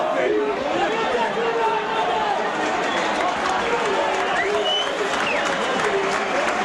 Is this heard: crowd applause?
yes